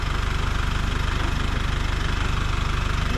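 A motorcycle engine runs steadily at idle with a fast, even, thumping pulse and rattling mechanical vibration, close and loud with no talk over it.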